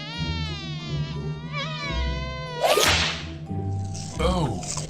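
Buzzing space bugs aboard a ship with an open airlock, heard as a dense electronic whine with wavering, swooping pitches, a loud whooshing burst midway, close and alone without speech.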